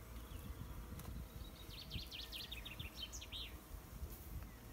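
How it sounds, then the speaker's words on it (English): Honey bees buzzing on hive frames while mini-plus mating nucs are taken apart, a faint steady hum under outdoor background, with brief bird chirps overhead. "there's enough bees on that now"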